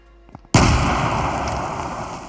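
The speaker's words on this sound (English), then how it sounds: "throw grenades" A grenade explosion in a shooter video game demo goes off as one sudden loud blast, then rumbles and crackles on for about two seconds, with no talk.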